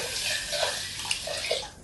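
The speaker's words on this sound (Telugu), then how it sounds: "ఈ రైస్ వేసుకున్నాక మనం వాటర్ పోసి నాన్ పెట్టుకొని పక్కన పెట్టుకోవాలి" Water pours over rice in a pot to soak it for pudina pulao, a brief steady splashing gush, close and alone.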